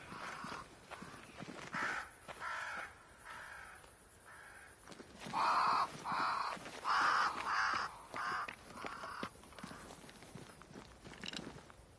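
Crows cawing near a great tree in the video game Banishers: Ghost of New Eden, a run of harsh repeated caws over soft ambient background with some footstep-like sounds.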